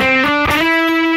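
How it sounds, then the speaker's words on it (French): Electric guitar run through a fuzz pedal with the reverb switched off, giving a loud, dry, saturated sustained note that shifts pitch a couple of times with no echo tail and no voices. "pour ce solo, j'ai mis une pédale de fuzz, et j'ai retiré la reverb"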